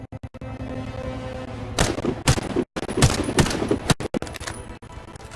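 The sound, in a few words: gunfire shooting at targets in video game Warface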